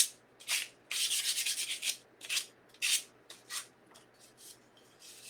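Sandpaper rubbing over a small wooden candy corn ornament in irregular strokes, some long and steady, others short and quick, close by and fairly quiet with no talking.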